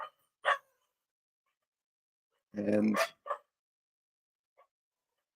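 Dogs bark at a passing delivery truck, a few short sharp barks and one longer burst spread across quiet gaps, with a brief word spoken among them.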